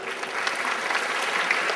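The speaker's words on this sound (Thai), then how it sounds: "เยี่ยมมากโปรบมืออีกนิดนึง" Youth audience at a fire-safety training session gives a loud, dense burst of applause, steady and close throughout.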